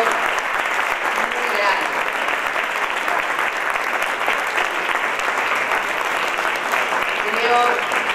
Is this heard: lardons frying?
no